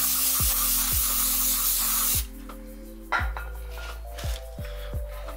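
A steady aerosol spray hisses loudly for about two seconds during a Lexus LX570 rear brake pad replacement, then stops, followed by a few light clicks and handling noises.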